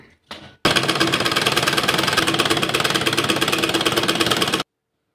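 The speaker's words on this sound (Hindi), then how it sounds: "अब इस तरह हमने सिलाई लगा लिया।" A sewing machine runs a straight seam joining two fabric pieces of a child's shirt: a brief stutter, then about four seconds of steady, fast mechanical whirring and rattling, close and loud, stopping abruptly into silence.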